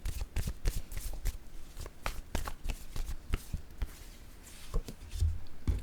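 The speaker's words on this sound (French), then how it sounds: "Attendez, je vais piger la carte mot maintenant." A deck of word cards rustles and snaps close by, with a quick series of crisp flicks and slides as a card is drawn, quiet and without talk.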